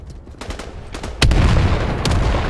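Gunfire in the World War II shooter game Battalion 1944: a few sharp shots at first, then a loud blast opens into sustained, dense firing with reverberating cracks, up close and intense.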